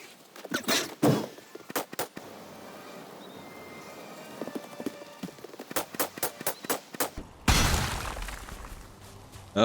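Something shatters in Valheim, with a run of sharp cracking impacts in irregular rhythm followed by a louder, denser crash of breaking debris near the end, close and clear without speech.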